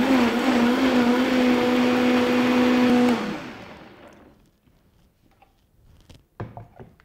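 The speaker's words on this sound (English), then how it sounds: "we're ready to mix our smoothie" A blender mixes a smoothie with a loud, steady motor whine for about three seconds, then spins down and fades, leaving a few faint knocks and clatters.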